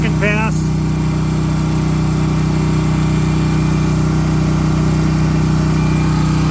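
Off-brand generator running during flux core welding, a loud, steady engine drone with a constant low hum throughout and a brief tonal chirp near the start.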